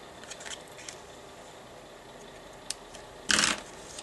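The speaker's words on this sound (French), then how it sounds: "Je recoupe en biseau mon ruban." Scissors snipping a ribbon at an angle while finishing a Little Star birth announcement, heard as one short, crisp, close cut after a few faint small rustles in a quiet room.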